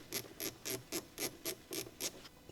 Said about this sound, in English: Use a small 8mm deep socket with a small ratchet wrench. Tighten the clamp on the intake tube.